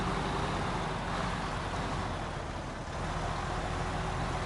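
Steady, heavy truck engine drone from the SnowRunner game, a dense continuous rumble with a low hum running throughout, loud and unbroken for the whole stretch with no voices.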